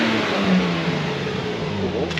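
A Subaru Outback's flat-six engine revs through its muffler close by, a loud, steady, throaty drone that rises and falls slightly in pitch, with no talking heard.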